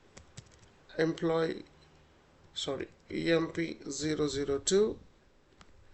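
Typing on a computer keyboard while entering employee records into an Excel spreadsheet, soft key clicks sitting under someone talking through most of the clip.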